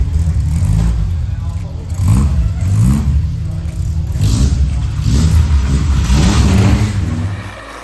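Engine of a 1973 Formula Ford race car rolling out of the assembly area at Silverstone, a steady mid-pitched drone rising and falling in repeated revs, loud and close throughout with some clatter.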